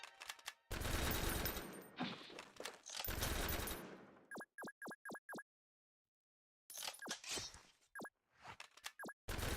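Gunfire in the combat video game Noobs In Combat: loud bursts of automatic fire with noisy crackle, followed by a quick run of five evenly spaced sharp shots, then further bursts after a silent gap.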